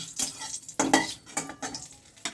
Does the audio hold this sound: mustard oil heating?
yes